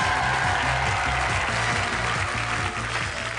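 Loud, sustained studio audience applause on a French game show, with a music bed running underneath.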